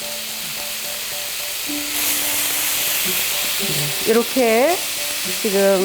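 Pork neck grilling in a pan gives a steady sizzle that swells after a quiet start, while a voice talks over it.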